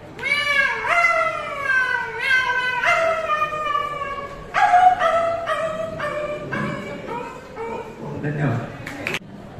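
A performer's voice imitates a dog and cat fighting on a college annual cultural program stage: a rapid run of yelping, meowing and whining cries, loud and near, rising and falling in pitch with barely a pause.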